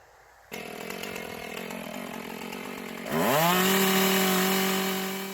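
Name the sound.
chainsaw cutting wooden post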